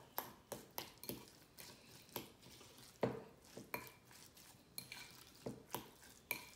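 A spoon works through an avocado spread in a bowl with squeezed lemon, making quiet rhythmic clinks and scrapes against the bowl, repeated steadily at close range.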